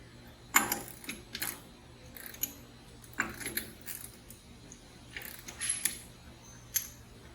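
A torque wrench tightens studs on a MITT-series mechanical piping isolation and test tool, giving sharp metallic clicks and light rattles at irregular intervals, close by with no talking.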